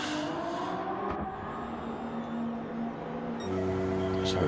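Race cars in a Toyota multiclass racing game at Fuji run as a steady mid-level engine drone, with higher whining tones weaving through and a louder engine surge toward the end.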